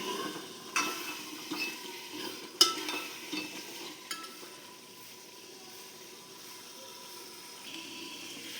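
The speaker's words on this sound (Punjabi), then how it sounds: "ਹੁਣ ਆਪਾਂ ਚ ਗੋਭੀ ਪਾ ਦਾਂਗੇ ਇਹਨੂੰ 2 ਮਿੰਟ ਹਿਲਾ ਕੇ" Cabbage and potatoes fry in a pan, with soft sizzling and a few scraping stir strokes and clinks in the first few seconds, then a steady low frying hiss carries on alone.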